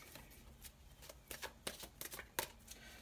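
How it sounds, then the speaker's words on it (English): Tarot cards slipping and falling out of a deck, giving a series of soft, quick papery flicks and slaps, faint and close, with no talk. "cards just keep falling out"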